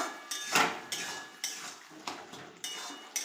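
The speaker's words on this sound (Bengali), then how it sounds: "একটু ভালোভাবে নেড়ে নেব" A metal utensil stirs fish curry in a pot, making a series of sharp clinks and scrapes against the metal, about six or seven evenly spaced strokes, close and moderately loud.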